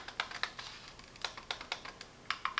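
A Keychron M6 wireless mouse gives a series of quiet, crisp clicks, some in quick pairs, heard close up with no voices.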